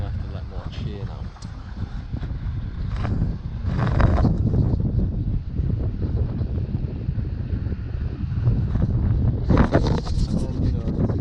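Strong wind gusts buffet an anchored sailboat, a steady roaring rush with louder surges and flapping broadband bursts, close to the microphone.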